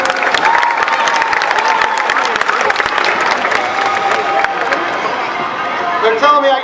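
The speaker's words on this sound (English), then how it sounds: "You guys give her a big round of applause for being so brave." A fair crowd applauds a brave volunteer at a martial arts demonstration at the Salem Fair, with sustained, dense clapping mixed with cheers and chatter, loud and close throughout.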